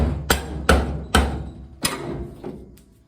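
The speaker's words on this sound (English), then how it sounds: "Grind the spot welds thin and knock them off of there" Hammer blows knock thin-ground spot welds off a 1956 Chevy truck chassis: four loud, sharp metallic strikes, evenly spaced about half a second apart, followed by a fainter tap, each ringing briefly in a workshop.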